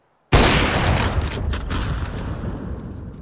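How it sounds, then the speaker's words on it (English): A flashbang grenade in a video game detonates with a sudden loud, close blast, then a long ringing, hissing wash that fades slowly over several seconds. "Flashbang."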